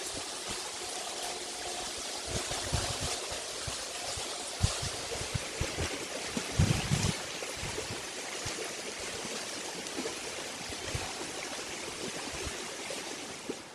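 Bear Creek flows steadily beneath a bridge on a greenway trail in Ashland, with a continuous close rushing and gurgling of water that stays even throughout and has a few brief splashy bursts.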